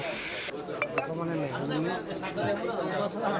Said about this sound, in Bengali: খাঁচা ভর্তি কবুতর নিয়ে আসছে